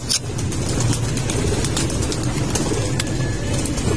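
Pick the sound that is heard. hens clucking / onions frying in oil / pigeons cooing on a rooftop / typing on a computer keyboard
pigeons cooing on a rooftop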